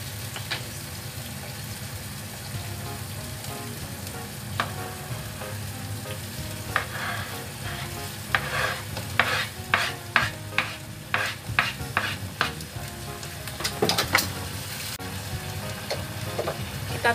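Chicken pieces stir-fried with sweet soy sauce and oyster sauce sizzle steadily in a pan, with a run of sharp spatula scrapes and clinks in the middle.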